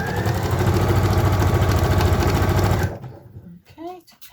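Sewing machine stitching cotton fabric for a fold-up tote bag made from two fat quarters, running in a loud steady rattle for nearly three seconds, then stopping abruptly, followed by faint handling noises and a brief voice.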